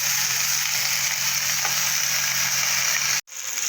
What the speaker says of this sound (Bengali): ফুলকপিটা আমার ভাজা হয়ে গেছে